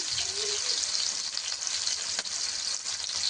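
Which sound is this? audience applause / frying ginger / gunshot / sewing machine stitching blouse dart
frying ginger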